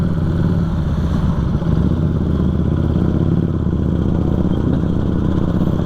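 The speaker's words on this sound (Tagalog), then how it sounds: "Ganda ng motor, parang Harley type." A Harley-style motorcycle of about 600cc, heard on a ride near Bolong Beach in Zamboanga City, gives a loud, steady low engine rumble with slight clatter and no pause in the sound.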